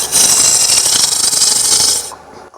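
A wood lathe turns a wooden Grecian column as the cutting tool removes wood, making a loud, close, hissing scrape with a rough texture for about two seconds before it abruptly stops.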